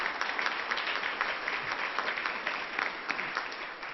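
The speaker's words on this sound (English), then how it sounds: "Let's give them all a round of applause for their support today." An audience at a Columbus Metropolitan Club economic forecast event gives a sustained round of applause, a dense, even patter of many hands clapping at close range.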